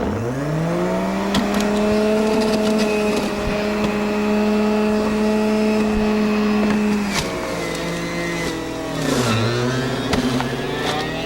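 An electric juicer presses quartered, stemmed and seeded apples into juice with a loud, steady, close motor whine that dips in pitch twice under load near the end.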